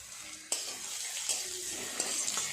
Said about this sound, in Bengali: এগুলো আর একটু নেড়ে চেড়ে ভেজে নেব